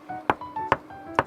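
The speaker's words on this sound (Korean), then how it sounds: "근데 툭툭툭 거리죠. 꽉 차 있는 느낌이 둔탁하죠." Three dull, solid knocks on a container house wall filled with spray foam insulation, evenly spaced, close and muffled with little ring.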